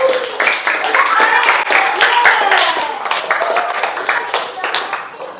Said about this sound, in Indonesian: Mana tepuk tangannya buat kelompok